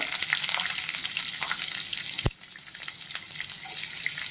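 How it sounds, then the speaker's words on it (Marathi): Onion frying in a pan with cumin and asafoetida, a busy close sizzle with stirring scrapes and one sharp knock midway, steady and without voices. "कांदा छान परतून घेत"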